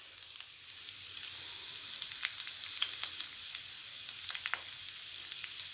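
Curry leaves and green chillies fry in hot oil, producing a steady, fairly quiet sizzle with scattered small crackles and pops.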